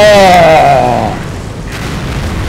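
Calliope rocket artillery strike in the Company of Heroes video game: a loud booming explosion with a rumbling tail that fades over a couple of seconds, with no talk.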